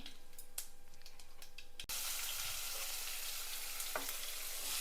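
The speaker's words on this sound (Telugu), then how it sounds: "రెండు ఒకేసారి వేస్తున్నాను ఉల్లిపాయలు ఆలు కూడా" Chopped onions and potatoes dropped into hot oil seasoned with cumin and mustard, starting with a few light pops and crackles, then a sudden loud, steady sizzle that carries on, with a couple of stirring clicks.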